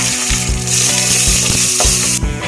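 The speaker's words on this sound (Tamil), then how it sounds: "இப்போ நம்ம தாளிக்க போகிறோம்." Dried red chillies, mustard seeds and urad dal crackle and sizzle in hot oil, a loud, steady frying hiss with a rattling, popping edge and no talking.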